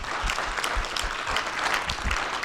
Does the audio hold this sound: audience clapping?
yes